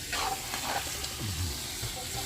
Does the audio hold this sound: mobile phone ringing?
no